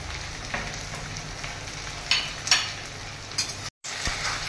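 Potatoes frying in a pan for a Bengali jhinge alu posto dish, a close, steady sizzle with a few sharper crackles and stirring scrapes, briefly cut to silence near the end.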